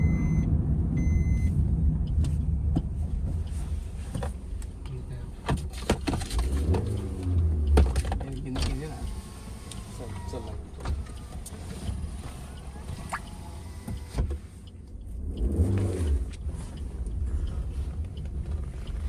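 A car on a first-time weekend drive in Hyderabad rumbles steadily from inside the cabin, with engine swells and low surges as gears are shifted.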